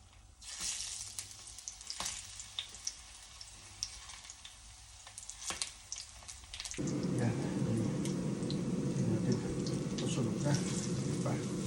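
Sliced banana (saging) frying in a pan during a home breakfast cook, a steady crackling sizzle that swells louder partway through once the fruit hits the oil, with faint kitchen clatter and tap sounds before.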